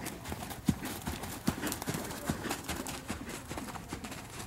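A horse walks after easing down from a faster gait during a schooling session, hooves clip-clopping in a steady, even four-beat rhythm at close range with no talk over them.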